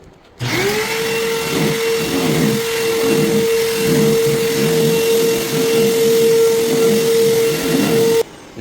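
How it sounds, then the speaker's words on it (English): A vacuum cleaner starts up and runs steadily over a rug with a loud, droning whine, its tone shifting slightly as it moves back and forth, then cuts off. "get the vacuum. Plug it up, vacuum this rug."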